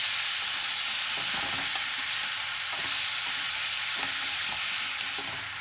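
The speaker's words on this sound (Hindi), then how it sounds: "और एकरा सबटा के मिला कर ढक के एकरा 5 मिनट बीच बीच में चलबै।" Raw mango and jaggery mixture being stirred in a pan over low heat, a steady frying sizzle with occasional soft scraping strokes, close and continuous, no voices.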